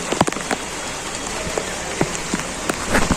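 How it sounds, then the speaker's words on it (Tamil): Heavy monsoon rain in Chennai pours steadily in a dense, hissing wash during flooding, with scattered louder drops pattering close by. "ஒரு அரை மணி நேரம் ஒரு மணி நேரமாக மழை அடித்து துவைத்து எடுத்து கொண்டிருக்கிறது"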